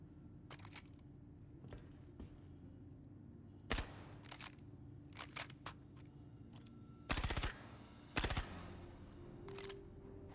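Gunfire in the video game Star Citizen during a siege battle, scattered sharp shots and several heavier bursts, fairly faint and spread across a low steady background.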